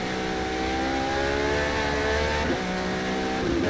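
Race car engine in Forza Motorsport 2023, in wet rainy conditions, revving and accelerating with rising harmonic whine, a gear shift midway, then climbing again, loud and close throughout.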